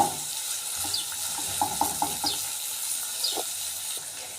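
An onion softens in a frying pan with a gentle, quiet sizzle and small crackles, soft and close, with faint intermittent clinks or stirring.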